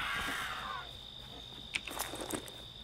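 Crows cawing in the video game Titan Quest on the Spartan Road, a few sharp caws bunched near the end over a quiet ambient bed with a steady high tone, with no talk over them.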